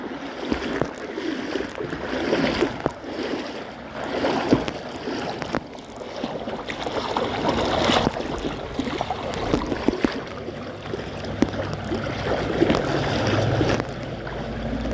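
Creek water rushes and splashes steadily and fairly close during a walk along a creek, with scattered crunches and knocks from footsteps and movement over the continuous watery hiss.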